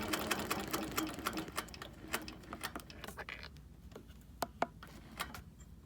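Sewing machine stitching free-motion quilting on a heart-template wholecloth quilt, a fast rattling run of needle strokes that slows into a few separate clicks and stops, close up with no voices.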